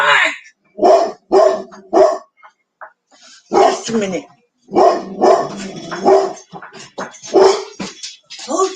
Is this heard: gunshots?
no